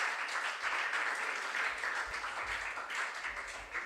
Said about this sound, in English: give yourselves a round of applause again